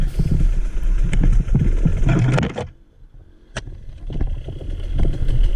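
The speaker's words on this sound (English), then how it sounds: "look what happens when I put my feet on the pegs and I just ride the bike" Motorcycle ridden along a training trail, its engine revving loudly with clattering bumps, then briefly dropping to a quiet idle before a sharp knock and the engine picking back up, close to the rider.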